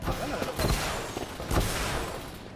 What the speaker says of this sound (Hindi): भाई कहाँ से गोली चल रही है